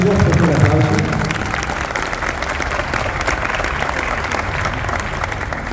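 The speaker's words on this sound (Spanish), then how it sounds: "Fuerte el aplauso." Audience at a book presentation gives strong, steady applause, dense clapping sustained throughout, with a voice briefly heard at the very start.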